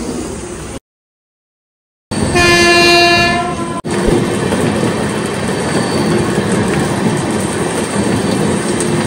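A train pulls into a station on the way to Pune's Ganpati arrival festival, a loud sustained horn blast over heavy rumbling and rail clatter that continues steadily after the horn stops.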